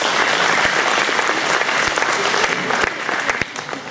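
An audience at a Vedanta Centre community event in Brisbane gives a round of applause, steady dense clapping throughout with a few louder individual claps, easing slightly near the end.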